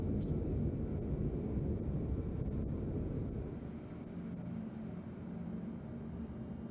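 A ship's quantum drive spools up in the Star Citizen space game as a steady, low rumbling drone that drops slightly in level partway through and then holds.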